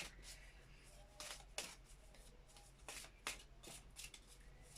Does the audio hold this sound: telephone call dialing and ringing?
no